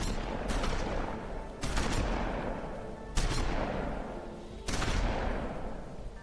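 Bursts of gunfire in The Wolf Among Us video game, four loud broadband volleys at roughly regular intervals, each decaying into a lingering rumble, with no talk over them.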